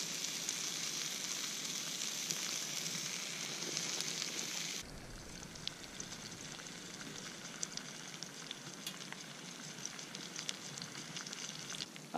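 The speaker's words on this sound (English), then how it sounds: "I am liking this little rocket stove" Wood crackling and hissing as it burns in a small rocket stove at a forest campsite, a steady close sizzle with scattered sharp pops that drops slightly in level partway through, no voices.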